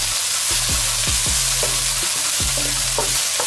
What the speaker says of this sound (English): we're gonna keep stirring the onions until they turn light brown